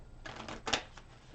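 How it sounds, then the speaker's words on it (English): Tarot cards being shuffled by hand during a reading, a few soft riffling bursts with one louder snap near the middle, quiet and close with no talking. "I'm going to shuffle them a few more times."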